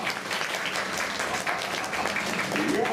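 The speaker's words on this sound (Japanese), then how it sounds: "みんな拍手だ" Audience of guests clapping at a Tokyo DisneySea Turtle Talk show, a steady dense round of applause with voices faintly mixed in.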